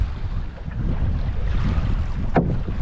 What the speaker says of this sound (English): Getting a little windy out here on Flagstaff.